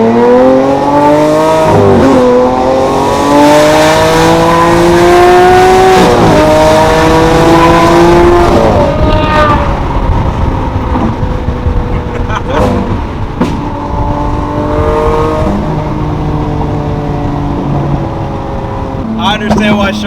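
A Lamborghini Aventador V12 revving hard while driving, loud repeated rising and falling engine sweeps with sharp gear-change breaks, close and dominant throughout.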